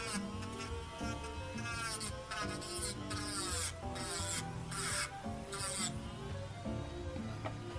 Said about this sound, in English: just so you guys are able to just listen to how loud this e-file is